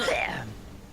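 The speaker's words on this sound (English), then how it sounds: "I don't know if the coughing was part of it" A single short, raspy cough or throat-clear, close and fairly quiet, fading out over about half a second.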